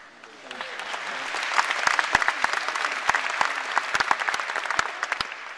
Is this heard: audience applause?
yes